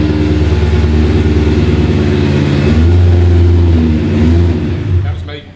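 BMW E30 M3 track car with a swapped S65 V8 and DCT gearbox at its first start, engine running loud and close with a steady idle that swells into revs before dropping off, voices talking over it.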